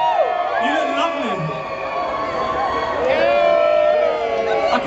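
Crowd at an Adam Ant set at the Rewind Festival cheering and whooping, a steady roar of many voices with scattered shouts and whistles, fairly loud and continuous throughout.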